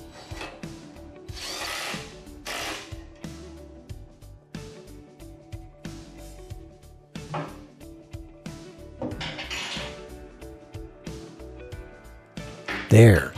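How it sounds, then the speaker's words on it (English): A wrench tightens the jam nut on a tractor loader handle of the SSQA system, giving intermittent close metallic clicks, ratchets and scrapes in uneven bursts under a voice talking. "Use a wrench to hold the adjustment nut in place while you tighten the jam nut."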